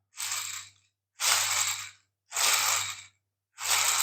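A hand-wound 3D-printed MakerBot dynamo made of yellow filament gives four separate, evenly spaced bursts of close mechanical whirring and ratcheting, each lasting under a second, with no talking.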